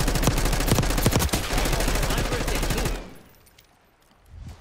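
Rapid automatic gunfire from a gun in Black Ops 6 rattles loud and close for about three seconds, then cuts off into quiet.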